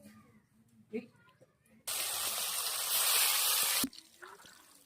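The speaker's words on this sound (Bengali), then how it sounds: "কড়াই গরম হয়ে গেছে, আমার সরষের তেল দিয়ে দেবো" Mustard oil poured into a hot wok, giving a loud, steady broadband sizzle that erupts suddenly, holds for about two seconds and cuts off, with quiet kitchen sounds before and after.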